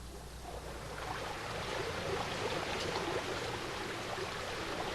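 Creek water flowing where Prairie Creek and Lost Man Creek merge among the redwoods, a steady broadband rush and gurgle that holds evenly throughout, with no voices.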